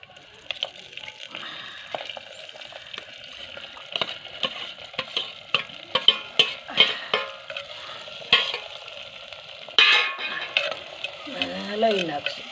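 Potatoes, tomatoes and chillies cooking in a pan, stirred with repeated scraping and clacking strokes over a crackling sizzle, a louder burst of frying partway through, close and fairly loud.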